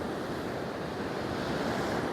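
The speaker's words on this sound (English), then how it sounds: "the waves will get slightly bigger and they'll push further up the beach" Waves break and wash steadily up a beach on the Holderness Coast, a continuous roaring surf with wind buffeting the microphone, loud and close throughout.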